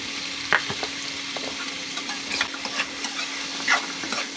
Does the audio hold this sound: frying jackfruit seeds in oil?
yes